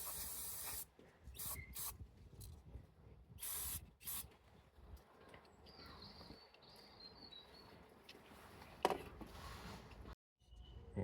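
An aerosol can of carburetor cleaner sprays onto a part of a Mk4 Volkswagen Golf in repeated hissing bursts, some short and some longer, close up and fairly quiet, with faint birdsong in the background.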